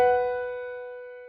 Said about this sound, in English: our drone sound, like this piano where I just held out the root and fifth note